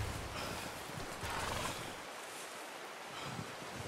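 Horse hooves clattering at a run in the video game Red Dead Redemption 2, over wind-like rushing noise, with a brief whinny; steady and fairly loud throughout.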